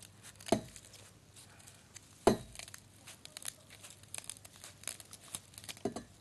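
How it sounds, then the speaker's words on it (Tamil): A few sharp knife chops on a board as vetiver root is cut finely, spaced apart, with soft crinkling and rustling between them, close and quiet. "வெட்டி வேரை பொடி பொடியா நறுக்கி நம்ம அதுல போடுறோம்"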